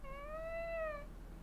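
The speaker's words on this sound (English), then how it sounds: "That was my cat." A house cat gives a single clear, rising-and-falling meow about a second long, close by, with a quiet background.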